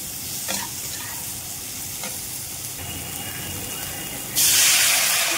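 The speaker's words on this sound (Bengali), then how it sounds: "চলো জল দিয়ে দিই" A hot pan of thin curry sizzles and crackles while being stirred, then water poured in sets off a sudden, loud, steady hiss of steam for the last second.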